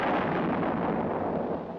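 Heavy field artillery fires in a single dense, loud blast that rolls on as a sustained broadband rumble and slowly tails off, with no voices.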